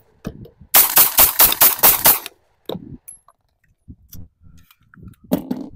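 A Tisas 1911 Carry B9R DS 9mm pistol fires 115 grain Venom rounds in a rapid string of about seven loud, sharp, evenly spaced shots, followed by quieter clicks and handling noises.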